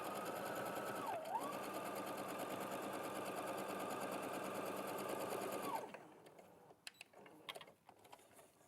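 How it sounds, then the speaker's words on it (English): A sewing machine runs continuously while stitching fabric, a close, steady, rhythmic whirring buzz lasting nearly six seconds before it stops, leaving a few light clicks and handling sounds. "I'm just going to turn that round now and sew away from that other line, that line there down the middle"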